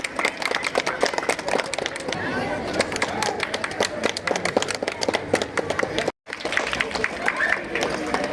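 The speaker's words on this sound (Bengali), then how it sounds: "সবাই হাততালি দাও সবাই" Crowd clapping at an annual school sports competition at Choumoha High School, a dense, continuous patter of applause with a voice speaking over it.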